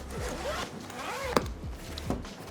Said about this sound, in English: And towards the back here, we have another zipper opening.